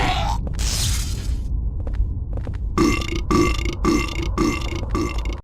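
Monster sound effect from the video game Silent Hill 4: loud, gurgling, belch-like growls, then a harsh rhythmic pulsing croak repeating in quick bursts.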